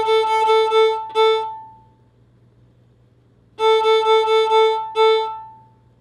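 An instrument plays the Suzuki Twinkle Variation A rhythm as two clear bursts of short, evenly repeated tones, each phrase ending on a held note, separated by a few seconds of quiet.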